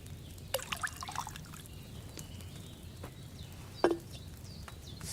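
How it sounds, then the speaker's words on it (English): Wine poured from a pitcher into a cauldron in Kingdom Come Deliverance 2: a short quiet trickle and splash, then a sharper clink of the vessel, over a low ambient hum. "First, you have to pour the right base into the cauldron."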